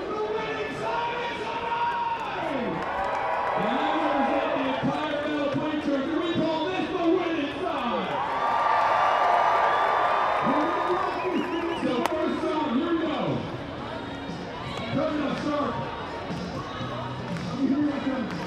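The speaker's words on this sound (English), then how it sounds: "So here is a sing-off. I'm going to step back and let you listen to the crowd belt it out." A packed Banana Ball baseball crowd at a night game in Daytona Beach sings together in a sing-off, many voices blending into a loud melodic chant that rises and swells over a constant stadium din.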